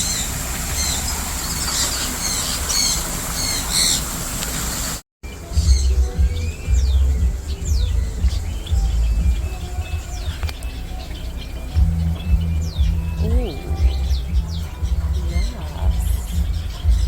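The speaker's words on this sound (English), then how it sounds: "Oh my god, there are birds everywhere." Birds squawking and chirping in an aviary at Costa Maya, with overlapping calls and tweets throughout, close and fairly loud, while people talk over them.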